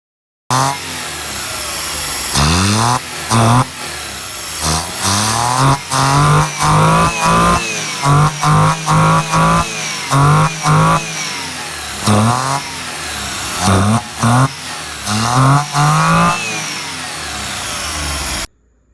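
A car engine with its air filter removed revs up loudly again and again, rising and falling in short bursts with a raw, throaty roar close by.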